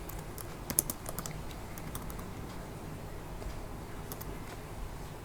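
Rapid keystrokes on a computer keyboard while an HTML title tag is typed, a steady run of light clicks at close range with a few sharper taps, no voices.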